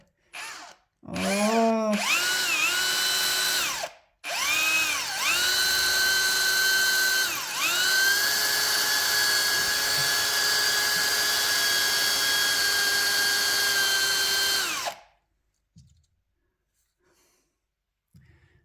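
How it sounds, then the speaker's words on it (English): A power drill whines loudly and steadily, with short bursts at first, then a long continuous run of drilling into a plaster wall before cutting off into quiet. "I'm going to attempt drilling into it and then putting a screw in"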